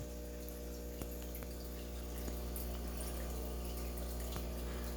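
An aquarium sponge filter runs in a fish tank holding tetras and super red fry, giving a faint, steady bubbling and trickling water hum that continues evenly throughout, with an occasional soft tick.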